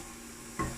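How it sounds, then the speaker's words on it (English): An onion dry-frying in a preheated frying pan gives a low, steady sizzle, with a short scrape-like stir near the end of the quiet, close sound. "we're gonna fry this onion"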